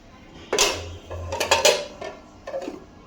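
A metal lid is set onto a cooking pot with a few close clattering clanks and scrapes, a short burst of rattling metal that settles within a couple of seconds.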